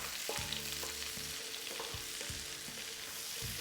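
Onion frying in a pan for Cajun chicken pasta, giving off a faint, steady hiss with a few low knocks of stirring, no voices present.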